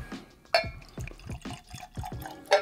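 Angel's Envy rye whiskey finished in ice cider casks pours into a glass, a soft close liquid trickle with small splashes and clinks, quiet and without talk.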